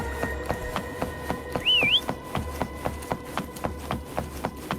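A short rising-and-falling whistle used to call a companion in the video game Wuthering Waves, heard once over steady rhythmic footsteps and faint background music.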